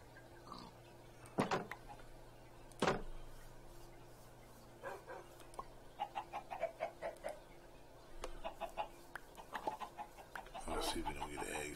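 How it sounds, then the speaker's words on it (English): Chicken clucks from a Minecraft game, several short bursts and a quick run of clucks rising over a steady ambient background, moderately near, with a barking-like call mixed in. "There's a red chicken right there."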